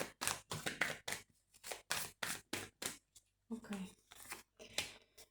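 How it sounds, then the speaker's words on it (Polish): Tarot cards shuffled by hand in a sequence of quick, crisp riffling bursts, close and fairly loud, with brief pauses between; a voice murmurs faintly in the background. "Nie wiem, co te karty tak lecą, będę je dalej tasować."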